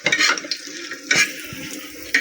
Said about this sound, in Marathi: चांगलं भाजून घ्यायचं खोबरं.